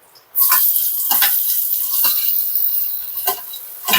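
Chopped onion drops into a pan of lightly sautéed garlic while making pasta, setting off a sudden loud sizzle that holds as a steady close hiss, broken by a few sharp stirring scrapes.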